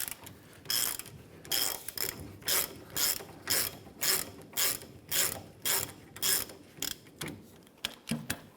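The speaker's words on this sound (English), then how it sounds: "Use our 18mm socket and ratchet. Let's go ahead and loosen this here" A ratchet with an 18mm socket loosening a bolt on a 1993-1997 Ford Ranger rear shock mount, giving a steady run of close, rhythmic clicking strokes repeated about once per second.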